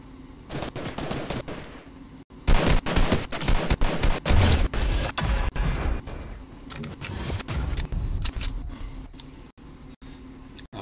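Rapid gunfire in an online shooter game, dense bursts of automatic shots and single cracks crackling loudly through most of the stretch, with a brief lull near the start.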